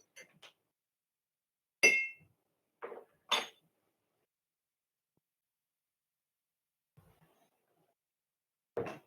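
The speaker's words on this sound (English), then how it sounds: "take a spoon and stir that up some so the sugar fully dissolves in there" A spoon stirs brown sugar into homemade yerba mate soda in a glass: a few sparse, bright clinks and taps with long quiet gaps between them, close by and faint overall.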